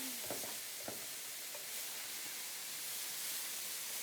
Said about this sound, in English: our butternut squash is boiling. I'm going to turn it down a little. We just want it to simmer